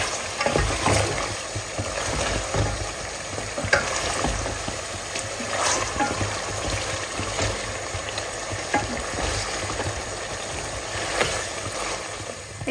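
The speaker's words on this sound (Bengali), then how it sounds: "মাংসটা রান্না করছি।" Meat cooking in a pan, stirred steadily, with a continuous close sizzle and repeated scraping and clattering strokes from the stirring spoon throughout, no talking.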